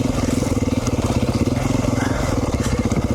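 A 2019 Beta 500 RR-S dirt bike engine runs just after a kickstart, giving a close, loud single-cylinder idle with a fast, steady thumping pulse throughout and no talk.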